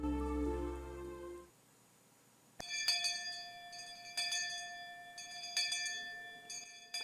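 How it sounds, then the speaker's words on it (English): A school bell in the video game Higurashi rings for the end of lunch break, sounding as a few bright, resonant chiming strikes that ring out and decay after a short quiet gap. "I heard the ring of the bell declaring the end of lunch break."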